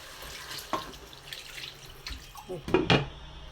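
Water splashed into a cooking pot holding fish and softened tomatoes, a few close liquid gushes and drips that grow louder toward the end.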